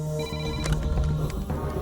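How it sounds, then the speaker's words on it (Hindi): A telephone rings in a police station with a repeating electronic tone, fairly close against a low background hum, without talk. "पुलिस स्टेशन में कदम रखते ही पहले दिन के फोन कॉल ने चैत्रा की जिंदगी को बदल दिया।"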